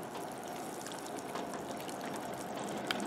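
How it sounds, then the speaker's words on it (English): Water poured from a container into the reservoir of a self-watering orchid pot, a steady soft trickle and splash running close and continuous through the whole stretch, with no talking. "I have my water here. I'm going to fill the reservoir up."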